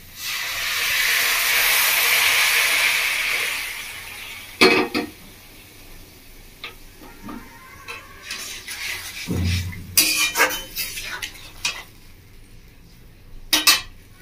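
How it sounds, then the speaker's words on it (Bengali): Hot water poured into a pan of lightly fried vegetables for Indian-style tomato soup with mixed veg and mushroom: a loud steady hiss and splash for about four seconds, then scattered clinks of the pan and utensils. "জলটা গরম হয়ে গেছে। এবার আমি দিয়ে দেবো এর মধ্যে।"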